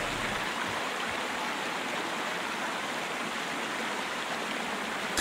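Steady rushing flow of water in the video game Sherlock Holmes: Crimes and Punishments, a continuous broadband wash like a stream or small waterfall, even and unbroken throughout with no voices.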